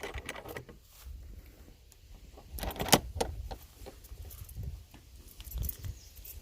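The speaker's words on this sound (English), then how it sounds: "So we're going to try a few different sets of keys." Several sets of keys jangle and clink at a barn door on a farm, brief metallic rattles scattered across the stretch with one sharp clack near the middle, fairly faint and close.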